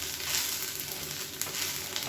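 Dosa batter frying in oil on a pan over a medium flame gives a steady, close, crackling sizzle that holds even throughout, with a couple of faint scraping clicks and no voices.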